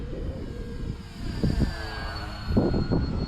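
A small FMS PA-18 Super Cub 1300mm RC model airplane engine whines overhead after takeoff with a steady high drone, fading and swelling as it passes, over rumbling outdoor background noise.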